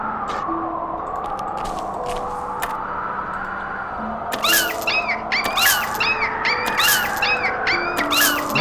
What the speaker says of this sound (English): I got fresh snow pups here. Who wants some fresh snow pups?